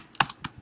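A handful of crisp clicks from typing on a computer keyboard, four distinct keystrokes close up at an uneven, brisk pace with quiet gaps between them.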